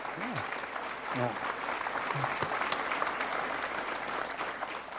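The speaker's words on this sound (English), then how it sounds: "Can we get a round of applause for Thank you. Wulsin?" A lecture audience claps for Dr. Wulsin, a sustained dense round of applause in a hall, with a few voices speaking briefly over it near the start.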